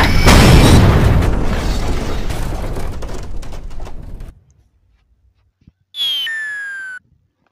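A booming bomb blast in a cartoon-style mobile game, a loud explosion that rumbles and decays over about four seconds, followed by silence and then a short bright chiming game jingle.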